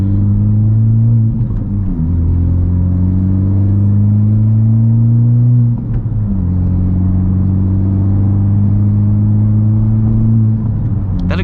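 A 2019 Honda Civic Type R cruises at a steady pace, its engine and exhaust giving a loud, constant drone. Two brief dips mark gear changes, and no one speaks.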